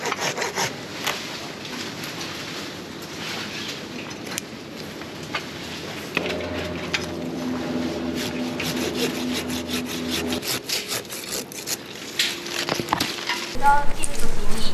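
A hand saw cuts through a tall tree branch during professional pruning in Tokyo, steady rasping back-and-forth strokes up close, with talk at times alongside.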